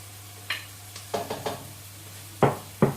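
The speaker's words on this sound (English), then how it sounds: "at this point we're going to add in the garlic" Garlic added to a hot pan while making homemade lasagne, giving a few short bursts of sizzle and clatter with spoon-like knocks scattered over a low steady hum, fairly close and loud.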